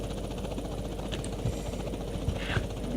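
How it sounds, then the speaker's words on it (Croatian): A helicopter in the multiplayer game GTA San Andreas (SA-MP) gives a steady, loud rotor and engine drone throughout, with a few small clicks over it. No one speaks. "Sad ću ja da uzmem neki helikopter"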